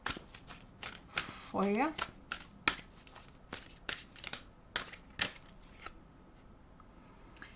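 Enchanted Map Oracle cards shuffled by hand for a tarot reading, a series of quick crisp riffles and slaps up close, with a voice speaking briefly over them.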